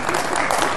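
Brief burst of audience applause at a high school recruiting seminar, a short dense patter of clapping from a crowd.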